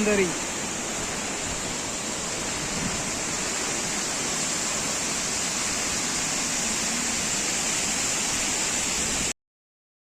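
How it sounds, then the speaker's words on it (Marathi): Continuous broadband rush of falling water from waterfalls at the far end of Sandhan Valley near Bhandardara, steady and loud throughout, with no voices. "त्या टोकावर वाहणारे धबधबे"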